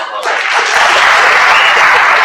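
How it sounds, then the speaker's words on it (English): Loud, dense applause from a large audience at a campus startup demo day, swelling quickly after a brief moment of talk and holding steady as a continuous roar of clapping. "how about a round of applause for the StartX staff for putting together this wonderful"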